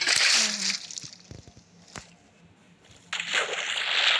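In a video game, water poured from a bucket of cod spreads across the ground, heard as two bursts of sloshing, splashy water noise at the start and end, with quiet clicks between.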